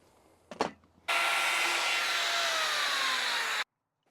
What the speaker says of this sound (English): I'm putting a 3/4 radius roundover on the bottom of this post